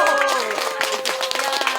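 Brief burst of clapping from a crowd at an open-air public forum, mixed with a sustained tonal voice or cheer above the hands.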